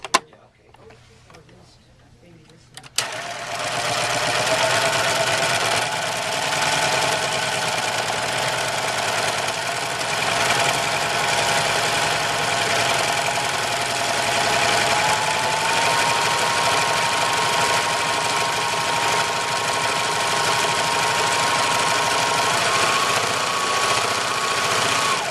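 After a short quiet moment, a serger sewing machine starts stitching a three-thread wave stitch, running in one loud, steady, continuous whir close by to the end.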